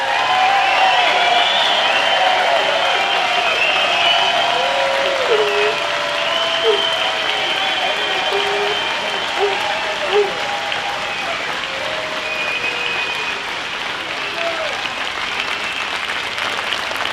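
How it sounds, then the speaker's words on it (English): A large outdoor crowd at a truckers' convoy rally applauds loudly and continuously, dense clapping that stays strong throughout and eases only slightly toward the end, with a voice amplified over it. "Let's give them a round of applause."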